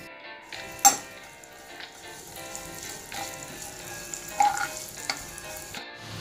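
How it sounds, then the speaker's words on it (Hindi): Dry fruits such as cashews, almonds, pistachios and raisins lightly roasting in a pan for broken wheat burfi, giving a soft continuous sizzle with occasional scraping stir clicks, close and moderately quiet. "आप काजू, बादाम, पिस्ता, जो भी आपके पास ड्राई फ्रूट्स अवेलेबल है वह सब डालकर हल्का सा रोस्ट कर लेंगे।"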